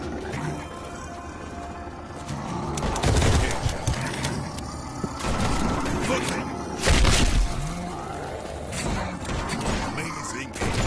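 Spread shotgun fire in a VR shooting game sounds as repeated loud blasts amid chaotic gameplay noise, with people talking over the action.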